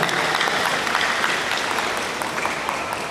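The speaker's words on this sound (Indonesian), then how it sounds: "Tepuk tangan buat Forkabi." An audience at a Halal Bi Halal anniversary gathering claps steadily in a short, dense burst of applause, fairly close and continuous with no talking over it.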